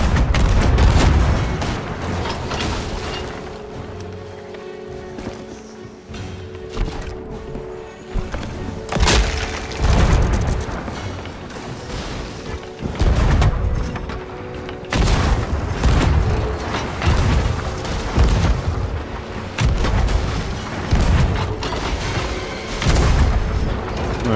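Ship cannons in the pirate video game Sea of Thieves fire repeated heavy booms at irregular intervals, loud and close, over sea and mechanical background noise.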